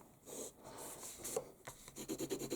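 A Koh-i-Noor Hardtmuth magic pencil is sharpened in the small sharpener built into its lid, a quiet close-up dry rasping and scraping that comes in short strokes and ends in quicker rhythmic turns.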